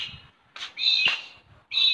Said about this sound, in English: Oh, grabe laki ng bird.